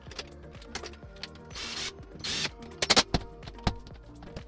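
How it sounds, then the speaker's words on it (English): A new uPVC window handle is slotted in and screwed into place, giving close clicks, ratcheting ticks and small scraping knocks in an uneven run of mechanical sounds. "Okay, so new one, slot it in, screw it in, all done."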